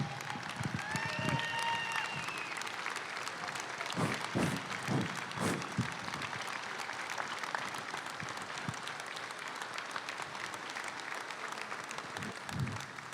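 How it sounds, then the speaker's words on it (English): A convention hall audience at an American Legion national gathering gives a long, sustained round of applause, dense clapping that carries on steadily for over ten seconds, with a voice audible briefly at the start. "give Mark and Elena a huge round of applause"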